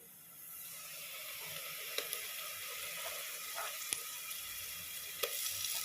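Ginger garlic paste with peas, carrot, beans and tomato sizzles softly in a pan, a quiet, steady frying hiss broken by a few sharp clicks and stirring knocks.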